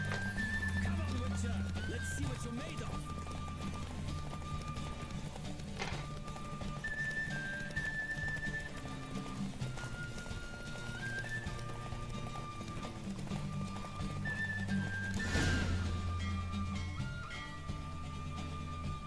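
Hooves clip-clop in a fast, steady gallop during a horse race in The Witcher 3: Wild Hunt, beneath game music and a talking voice, with a horse whinnying briefly near the end.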